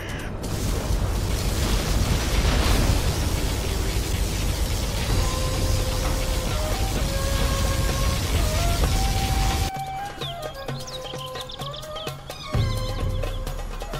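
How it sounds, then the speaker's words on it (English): A long, roaring particle cannon blast from the game Command & Conquer Generals Zero Hour surges loudly, with whining tones gliding through it before it breaks into crackling, sputtering effects. "Particle cannon activated."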